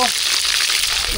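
Food frying in a pan, a loud, close, continuous sizzle with steady hissing crackle throughout, no pauses.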